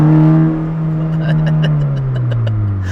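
A Honda Fit with a swapped K24 engine revs up close and loud, its steady low drone climbing and then settling over about three seconds, with faint talk underneath.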